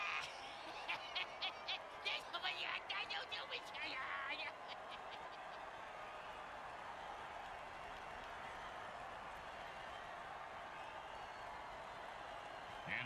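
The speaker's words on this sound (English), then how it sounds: "Crowd's loving it." Crowd noise from a football video game swells with cheering and scattered crackles at the start, then settles into a steady, moderately loud stadium roar that holds to the end.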